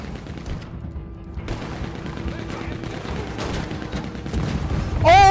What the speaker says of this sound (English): Gatling gun.